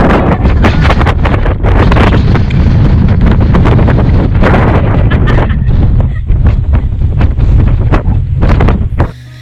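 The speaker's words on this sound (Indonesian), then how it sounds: "angin bertiup sangat kencang, disertai kabut tebal yang makin lama makin mirip badai" Strong gusty mountain wind on Mount Ungaran, amid thick fog, buffets the microphone in loud, continuous rumbling blasts with sharp crackling bursts throughout, no voices present.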